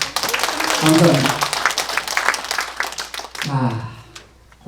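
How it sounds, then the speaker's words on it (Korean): Audience applause at a Korean humanities lecture on overcoming the crises of old age, a broad wash of clapping for the lecturer that swells and then fades, with speech at the end. "우레와 같은 박수로 제가 잠에 빠지지 않도록 해주십시오. 박수 한번 쳐주십시오"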